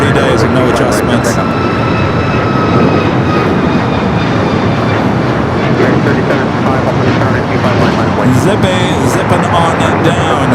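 A jet airliner rolls down runway 24 left on the north side of LAX, a loud, continuous broadband roar filling the scene and holding steady throughout, with a voice talking over it.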